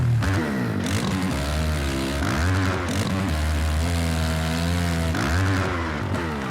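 A 450cc motocross bike in the MX vs ATV Legends racing game revs hard and steadily, its engine note rising and falling through gear changes, loud and close with no talk over it.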